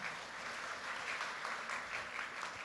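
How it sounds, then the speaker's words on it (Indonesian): Congregation applauding during a Sunday church service, a steady dense wash of many hands clapping together at moderate distance, sustained evenly throughout with no voices over it. "Tepuk tangan yang meriah bagi Tuhan."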